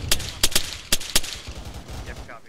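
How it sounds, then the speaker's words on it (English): Sporadic machine gun fire in a military simulation game, a handful of sharp irregular shots and short bursts, fairly close, followed by fainter rumbling and a voice in the background. "Jackal is and Farm 1 are taking sporadic machine gun fire from their east."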